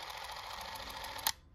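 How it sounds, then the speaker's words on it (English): The clockwork motor of a Bolex C8 8mm film camera runs with a close, faint, steady whirring buzz, ending with a sharp mechanical click as it stops. "I thought that the motor sounds rather weak."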